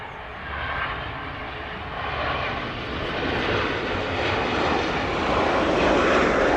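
A passenger airliner on a Dublin service arrives at East Midlands Airport, its engines a broad, rushing roar that builds steadily louder as it draws closer.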